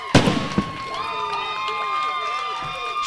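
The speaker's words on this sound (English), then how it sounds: "shoots off the fireworks" Fireworks set off after a two-run home run at a baseball game, Pontotoc Red Sox versus Moberly Sixers in a Mid-South regional elimination game, with a few loud bangs at the start giving way to high whistling tones over crowd noise.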